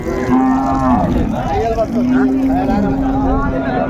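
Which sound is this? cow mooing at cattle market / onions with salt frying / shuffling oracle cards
cow mooing at cattle market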